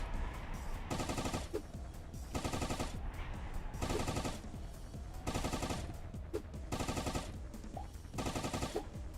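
A submachine gun firing in a video game, rapid automatic bursts of about a second each, repeated roughly every one and a half seconds at steady loudness, with brief gaps between volleys.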